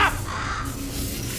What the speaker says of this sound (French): Bon, c'est sûrement l'oiseau, pas vrai?